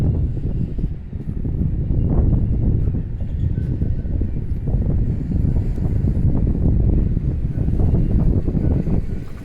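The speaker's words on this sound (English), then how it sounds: "little windier right here." Strong wind buffets the microphone on a waterfront, a loud, continuous low roar with gusty swells and no break.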